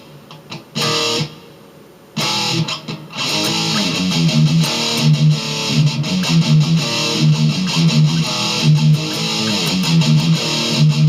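Distorted electric guitar riff with barred power chords on the 4th and 5th strings, opening with a few stabbed chords and gaps, then settling into a loud, continuous, heavy repeating pattern.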